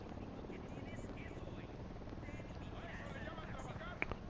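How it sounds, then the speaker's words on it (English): A helicopter approaches in Ghost Recon Wildlands as a steady, faint rotor drone and rumble beneath game ambience, with voices talking over it. "there's a chopper inbound"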